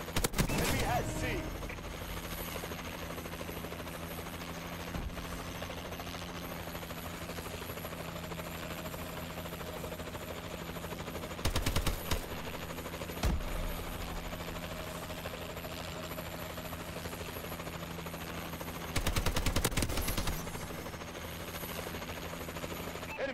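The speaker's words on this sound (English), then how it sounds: "Friendly warbird in the air." A friendly warbird aircraft drones steadily overhead during a Call of Duty multiplayer match, a constant rotor-like hum under occasional loud bursts of gunfire and game effects.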